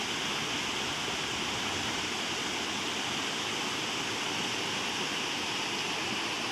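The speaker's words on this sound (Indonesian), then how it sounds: "Inilah aliran sungai Lawe Sikap" The Lawe Sikap river comes down from the mountains in a loud, close, unbroken roar of rushing water, a dense steady hiss with no pauses and no voices.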